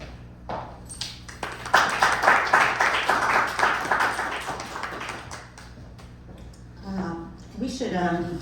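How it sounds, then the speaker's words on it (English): An audience at a panel event claps in a brief burst of applause that rises quickly and fades, with people talking before and after it. "We should be getting up and down more often since we get applause every time."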